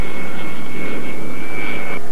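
Loud, steady roar of a military jet aircraft engine with a piercing whine held throughout, cutting off abruptly near the end.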